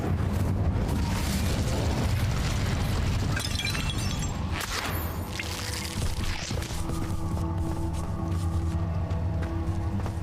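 Incendio fire spell cast in the video game Hogwarts Legacy: a loud, sustained roaring blast of flame with crackling bursts, settling into a steadier rumble with a low tonal hum beneath.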